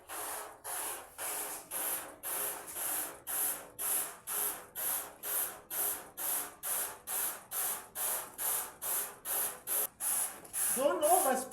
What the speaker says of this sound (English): That is how you should spray.